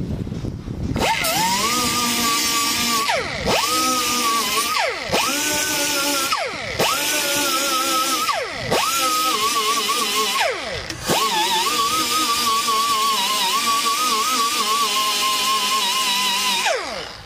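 A power grinder works over a small dent on a car body, whining loudly at a high pitch in repeated passes of a second or two. The pitch dips sharply each time the disc bites into the metal, with short pauses between passes.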